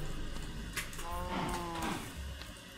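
A Minecraft cow moos once, moderately loud over a low steady background hum, with no other sounds alongside.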